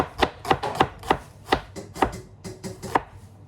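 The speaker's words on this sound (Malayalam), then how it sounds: "സവാളൊക്കെ നമുക്ക് കുനുകുനായിട്ട് കട്ട് ചെയ്തിട്ട് തുടങ്ങിയിട്ടുണ്ട്." Finely chopping onions for a Kerala chicken curry, a steady series of about a dozen crisp knife strikes on a cutting board, close and fairly loud, with no voices.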